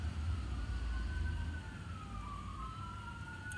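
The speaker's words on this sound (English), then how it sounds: "Siren. Oh, they're coming to take me away?" An emergency vehicle siren wails outside, its rising and falling tones overlapping as it passes at a distance over a low rumble of traffic, faint and steady.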